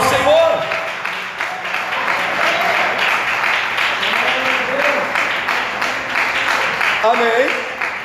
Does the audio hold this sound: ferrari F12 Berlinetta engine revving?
no